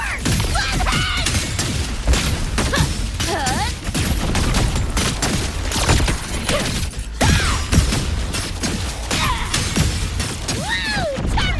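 Rapid gunfire bursts and booming grenade explosions from a Cyberpunk and Wuthering Waves crossover video game, loud and dense throughout, with game character voices shouting between the blasts.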